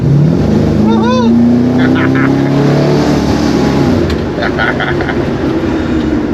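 A Holden HT with a swapped-in V8 and twin 2-inch exhaust revs hard. A deep engine note climbs, then settles into a rumbling idle, with a brief voice near the start.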